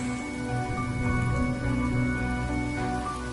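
Rain falls in the video game Honkai Star Rail as a steady, even hiss. Faint sustained musical tones run underneath throughout.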